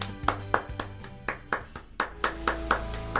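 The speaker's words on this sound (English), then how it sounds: "Give yourselves a round of applause for the work you did today." Scattered hand claps ring out in an uneven rhythm, a dozen or so sharp slaps over a soft sustained musical tone, with no voices.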